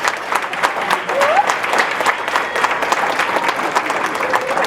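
A school assembly audience applauds a primary school student receiving an award: sustained, dense clapping from many hands, fairly loud and even throughout, with faint voices mixed underneath.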